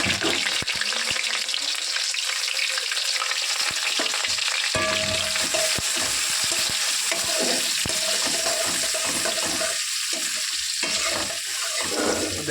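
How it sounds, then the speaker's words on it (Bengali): Onions fry in hot oil for chicken biryani, a loud, unbroken sizzle and crackle that stays close and constant, with no voices. "পেঁয়াজটা দিয়ে দেবো তেলে, ভালো গরম হলে"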